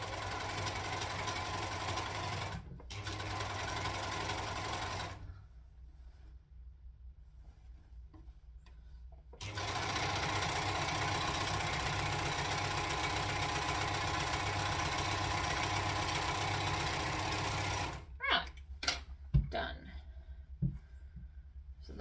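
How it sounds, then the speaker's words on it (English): An overlocker finishes a fabric edge on a McCall's M8083 top, giving a close, humming mechanical run in two stretches: a short one, then a long steady one of about eight seconds. A few clicks and clatters follow the stop. "That is now all beautifully overlocked."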